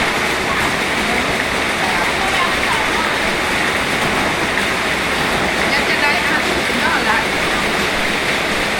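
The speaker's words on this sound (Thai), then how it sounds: "โอ้ยฝนมันตกนี่แหละ" Rain falls steadily during a village alms-giving morning on the start of Buddhist Lent, a dense continuous hiss of heavy rain close by, with someone talking over it.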